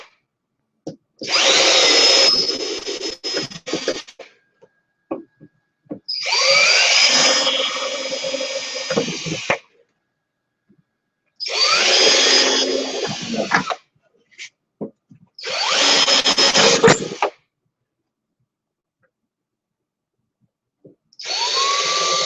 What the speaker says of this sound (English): we're just going to drill a few little holes in this